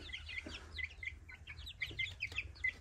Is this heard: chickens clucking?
yes